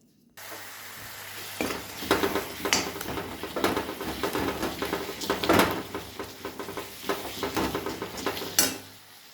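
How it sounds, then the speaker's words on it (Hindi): Dal frying in a pan, close sizzling with repeated scraping and clinks of a spoon stirring against the metal in irregular bursts. "तो मैं दाल फ्राई कर लेती हूँ पहले।"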